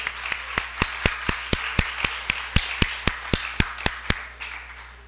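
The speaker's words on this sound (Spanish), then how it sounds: "yo quisiera que ustedes mismos se den un aplauso por estar hoy aquí aprendiendo" During a lecture on hydration and body fluids, a single pair of hands claps in a steady, evenly spaced rhythm, about seventeen sharp close claps before trailing off, with a constant low hum behind.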